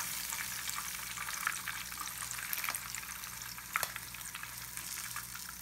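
Whole catfish frying in hot oil, a steady crackling sizzle with scattered pops throughout, close and moderately quiet with no talking.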